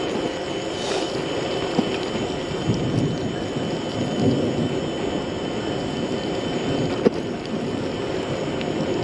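A thunderstorm with steady rain and rumbling thunder fills the scene, a broad continuous wash of rainfall with a sharp crack of thunder near the end.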